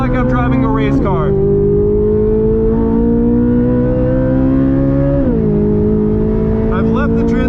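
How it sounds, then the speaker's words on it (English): A 2023 Chevrolet Corvette Z06 with a flat-plane crank V8 is heard from inside while driving, a loud, continuous engine drone that rises and dips with shifts. A voice talks over it at the start and end. "The vibration of this flat plane crank V8."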